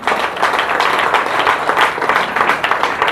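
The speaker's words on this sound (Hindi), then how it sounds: "मैं चाहूँगी कि उनके लिए जबरदस्त ताली होनी चाहिए" Loud, dense applause from an audience at a seminar, many hands clapping together in a continuous roar that swells and dips slightly, close and sustained for the whole stretch.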